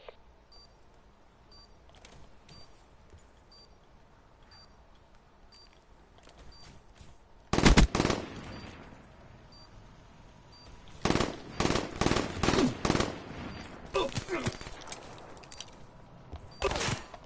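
Bursts of gunfire in a team shooter video game, mostly quiet at first, then a loud rapid volley followed by a run of sharp repeated shots, with faint game interface blips throughout.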